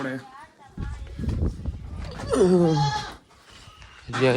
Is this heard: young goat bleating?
yes